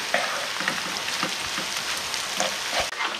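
Butter, about fifty grams, melts and sizzles in a pan over rising heat, a steady soft crackling hiss that runs the whole time with small pops, heard alone without speech.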